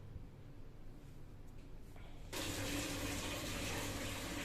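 A kitchen tap runs while spinach is washed for aloo palak, starting as a low, steady trickle and swelling partway through into a louder, continuous gush of water, with no talking.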